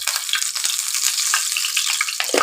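Fish, salted beforehand, sizzles and spits loudly in hot oil for machher piyaji kalia, a dense continuous crackle with sharp popping bursts, close and alone.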